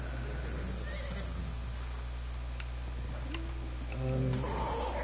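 A horse in the ARK survival video game gives a loud whinny near the end, rising over a steady low game hum with a few faint ticks earlier.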